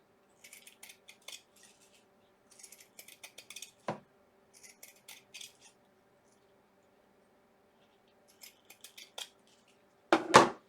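Scissors trim the stems and edges of a heart-shaped flower bouquet in short bursts of quiet snipping and rustling, with a sharper clip near the middle and a louder crinkle at the end.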